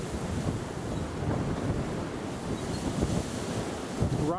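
Strong gale wind during Storm Isha at Newcastle Airport, a steady loud rushing roar with gusty buffeting on the microphone, continuous throughout with no talk.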